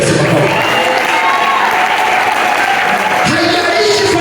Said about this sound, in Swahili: Hebu mchapie Yesu makofi.